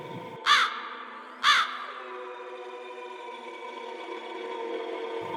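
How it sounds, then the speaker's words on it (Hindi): Two sharp crow caws ring out about a second apart over a quiet, steady background hum. "तो पीछे से कौवे की आवाज आती है।"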